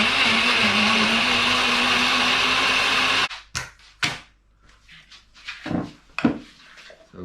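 Blender liquidising whole tomatoes for tomato powder, a loud steady whir running for about three seconds before cutting off, followed by quieter kitchen knocks and rattles.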